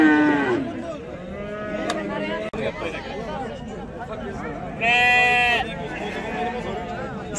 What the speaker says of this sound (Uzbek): bular g'unojin buzoqchalarimiz